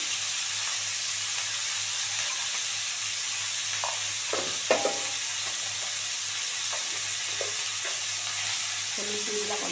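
Cauliflower and potato, steamed first in hot water and then seasoned with salt and a little turmeric, fry in hot oil with a steady loud sizzle, broken by a few scraping stirs.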